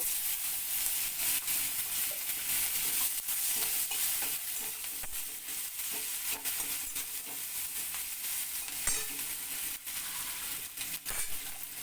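Radhuni seeds and a small onion frying in hot oil for a fish curry, giving a steady, fairly quiet sizzle with occasional stirring scrapes throughout and no voices.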